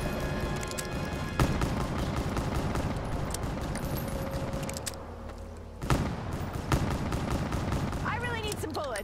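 Rapid gunfire from Black Ops 3 Zombies in the Shadows of Evil map, dense and continuous with sharp louder bursts standing out, under faint voices.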